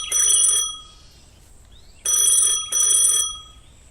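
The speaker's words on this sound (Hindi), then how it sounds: "तभी एक फोन आता है।" A telephone rings in loud electronic bursts, one ring, a pause, then two more close together, with no voices.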